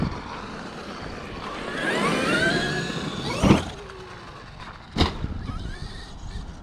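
A Traxxas XRT RC truck drives around, its electric motor whining and rising in pitch as it speeds up, with a couple of sharp knocks or bumps and a faint hiss between runs.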